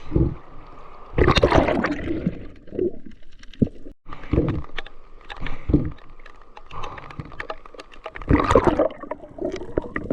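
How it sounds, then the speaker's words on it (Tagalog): Strong current rushing through shallow sea water, heard close by in irregular loud surges and splashes with quieter gurgling between them, no voices. "Pero malakas yung agos."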